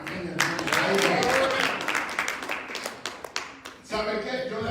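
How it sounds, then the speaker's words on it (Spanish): A church congregation applauds during a service, with dense rapid clapping that swells and then thins into scattered claps before picking up again, and voices talk over it. "aplaude, hermano, dígame amén"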